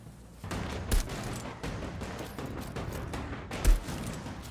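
Turret guns open fire on an enemy in the shooter Outriders Worldslayer, a dense run of rapid shots with two louder bursts standing out over steady game noise.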